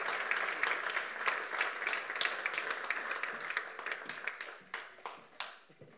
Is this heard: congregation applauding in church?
yes